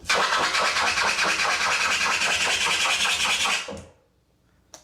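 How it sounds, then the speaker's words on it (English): Loud, rapid back-and-forth turntable scratching on a vinyl record pulses for several seconds, rising in pitch as it speeds up, then cuts off abruptly into near silence. "The faster you scratch,"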